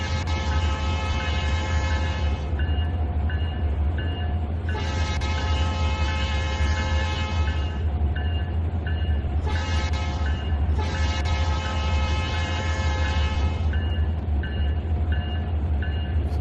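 Simulated train in Trainz 2019 rolling along with a deep steady engine rumble, while the horn blows in several long and short blasts, loud and close throughout.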